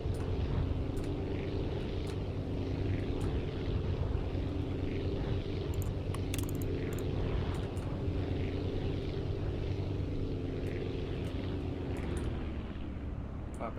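Self-built airplane in Aviassembly droning in flight with a steady, loud engine hum and propeller noise, winding down toward the end as it comes in to land.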